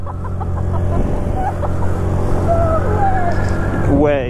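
A Honda Navi scooter carrying a passenger accelerates at wide open throttle, its engine a steady loud drone that climbs in pitch, with a person talking over it.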